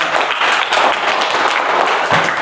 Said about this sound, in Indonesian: Ya, tepuk tangan untuk adik.